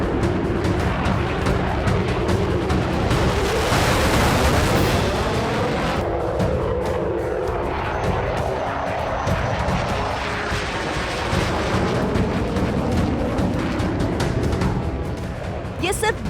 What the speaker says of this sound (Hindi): रूस के Tu-95 स्ट्रेटेजिक बॉम्बर जापान सागर के ऊपर विध्वंसक